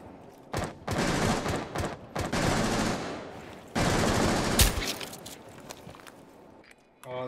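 Automatic gunfire in Rainbow Six Siege, two long loud bursts of rapid shots with a short pause between and footsteps around them.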